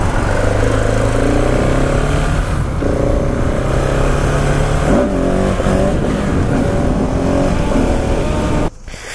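A car driving past at night in Ithaca, its engine loud and close as it accelerates and shifts through rising and falling revs, then cuts off abruptly near the end.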